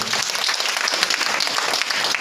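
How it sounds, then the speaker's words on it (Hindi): A hall audience breaks into loud, dense applause, many hands clapping steadily and close throughout the short burst. "जोरदार तालियां होनी चाहिए"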